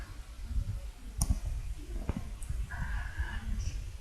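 A few sharp key clicks on a computer keyboard during data entry in Smartbiz accounting software, sparse and fairly close, with faint room noise between presses.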